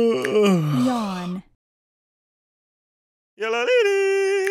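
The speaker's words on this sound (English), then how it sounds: "Yawn." A cartoonish yawn voice from the Metamorphabet alphabet game, a long drawn-out moaning yawn, a pause of silence, then a second rising yawning wail, both loud and close.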